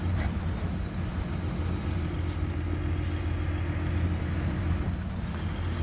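A loud, constant low engine rumble from a heavy PTS-M tracked truck in the video game MudRunner, droning steadily with a brief hiss partway through.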